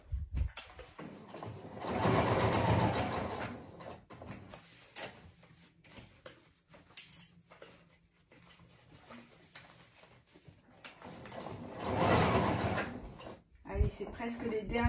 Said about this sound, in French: Presque les derniers points à la machine.